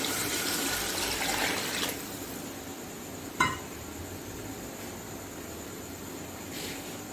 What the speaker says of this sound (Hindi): मैं 2 किलो इसमें पानी डालूंगी।